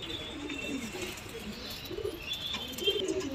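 Madrasi pigeons, including a female, coo nearby in soft, repeated low murmurs over a steady airy background hiss, with no talking.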